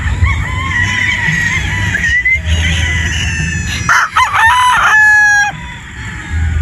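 Boston Roundhead broodstag rooster crowing loudly and close, several drawn-out crows with short clucks and other fowl sounds between them.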